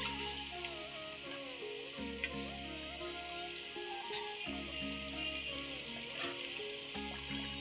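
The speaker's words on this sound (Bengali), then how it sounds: "এই যে ঝোল ফুটে গেছে।" Thin katla fish curry broth bubbles at a boil in a pan, a steady, hissing simmer with a few small pops beneath quiet background music.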